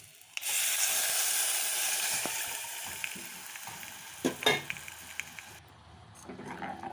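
Buttermilk gravy (mor kuzhambu) with sundakkai and asafoetida bubbling and sizzling loudly in a pan after being poured in, a steady frying hiss with a few sharper crackles and stirring sounds near the end.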